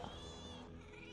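A cat meows in the Fortnite video game, one drawn-out, tonal cry heard close and clear over steady game ambience.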